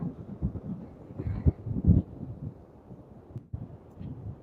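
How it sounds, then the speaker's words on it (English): Strong north wind of 20-plus miles an hour blowing across a wide beach, heavy low rumbling buffets against the microphone that surge and ease in uneven gusts. "The wind is still blowing good 20 plus miles an hour from the north."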